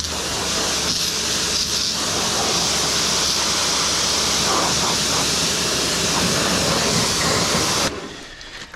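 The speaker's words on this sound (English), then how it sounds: "let's give this a bit of a rinse off" Water spray rinsing a Vauxhall Corsa C during a wash: a loud, steady, broadband hiss of spray that runs continuously for about eight seconds, then cuts off abruptly, leaving a quieter background.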